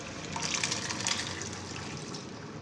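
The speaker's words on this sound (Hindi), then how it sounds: "पानी फेंकना नहीं लोबिया का, और अंदर ही ऐड करेंगे कीमे के" Boiled white lobia and its cooking water pour into a pot of qeema, a steady close gush of liquid lasting a couple of seconds at moderate volume.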